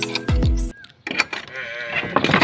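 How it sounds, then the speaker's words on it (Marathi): Two loud, drawn-out bellows close by from a water buffalo that calved two days ago and is not yet milked, followed by fainter rustling and shuffling barn noises. "मग म्हैस ओरडती"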